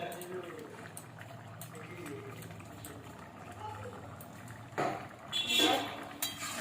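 Vegetarian jackfruit and pointed gourd curry sauce boiling in a pan on a lowered gas flame. A low bubbling simmer runs under talk and grows into a louder, hissing burst of bubbling near the end.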